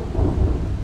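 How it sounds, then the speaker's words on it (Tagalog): Steady heavy rain in Riyadh, Saudi Arabia, a dense continuous wash of low rumbling noise with no voices. "Ay, ang lakas ng ulan."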